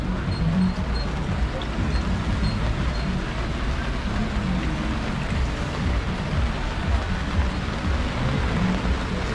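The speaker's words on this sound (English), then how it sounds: "And it's raining. It's raining here." Steady rain falls across an outdoor boat show, a dense even hiss of drops hitting boats and surfaces that continues throughout with no clear talk.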